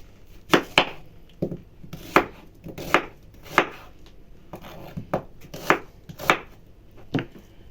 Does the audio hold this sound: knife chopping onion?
yes